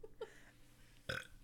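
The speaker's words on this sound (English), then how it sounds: "That doesn't count. That wasn't my burp." A person lets out a short, low burp at close range, then a louder, rougher belch follows a moment later, with no talking.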